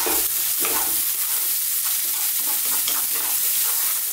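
Vegetables for a beef Bolognese meat sauce sizzle steadily in a pan over medium heat, with a spoon stirring through them in soft scraping bursts; a continuous close hiss of frying, no voices.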